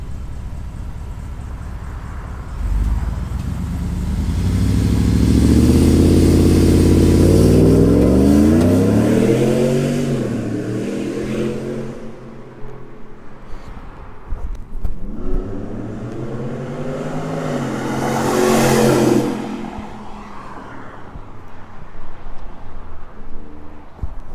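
A Shelby F150 truck with headers roars past up close, revving hard with rising and falling harmonics, fades, then a second loud pass sweeps by.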